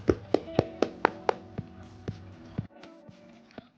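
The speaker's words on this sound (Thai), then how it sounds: "ผมจะ เคาะให้ดูว่าลูกสูบกับลูกดิบต่างกันยังไง ตั้งใจฟังนะครับ" Knuckles knocking on whole durian fruits to judge ripeness, a quick run of hollow taps in a steady rhythm followed by softer, more spaced knocks, close up and alone.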